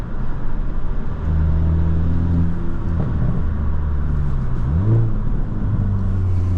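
A 2022 Hyundai Elantra N with a manual gearbox running in eco mode: a steady, fairly loud engine drone and low rumble inside the cabin, with a brief rise and fall in pitch partway through.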